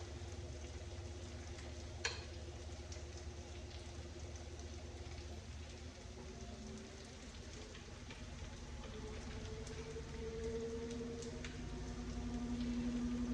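Minced garlic frying in a pan, a steady, soft sizzle running the whole time with a faint click near the start and a slight rise in loudness toward the end.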